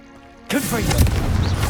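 A Confringo fire spell explosion in Hogwarts Legacy hits abruptly after a quiet moment, a loud booming blast with sustained crackling roar, close and heavy, as a voice shouts over it.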